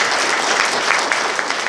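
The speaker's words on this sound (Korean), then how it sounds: "김승원님도 환영의 박수" Applause welcoming a speaker at a Korean memorial ceremony for independence activist Kim Dong-sam, a dense, steady clapping from a room of people, loud and close, without talk.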